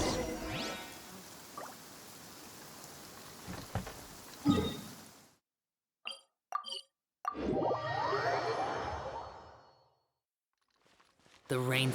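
Steady rain in Genshin Impact falls as a broad hiss for about five seconds, then stops abruptly. Short game sound effects follow, then a softer ambient wash. Scattered plops occur near the start.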